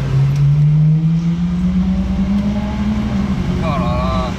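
A Mansory-tuned car, fully fitted with a Mansory kit, revs and accelerates with a loud steady engine drone that slowly rises in pitch, with people talking over it.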